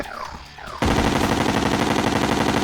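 Rapid, continuous automatic weapon fire from the video game Terraria bursts in abruptly and hammers on loud and unbroken to the end.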